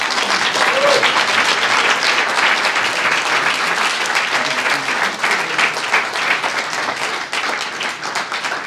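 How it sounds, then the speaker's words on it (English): A live audience at a poetry reading applauds steadily after a poem, a dense, even wash of clapping that holds at full strength for the whole stretch and thins only slightly near the end. "Another round of applause for Thurman Watts, everyone"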